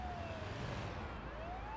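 Ambulance siren wailing in an emergency medical simulator video game, a steady rising and falling tone over a constant traffic rumble, loud and close throughout.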